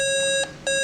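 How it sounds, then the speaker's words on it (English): An alarm sounds from a control unit simulator on a repair bench, a steady piercing electronic tone with two brief pulsing accents, loud and alone with no talk. "we can hear the alarm sound from the simulator"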